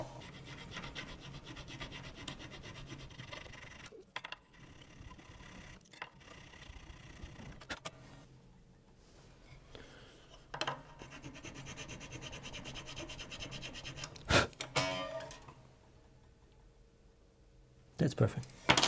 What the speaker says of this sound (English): So I'll file the nut a little lower.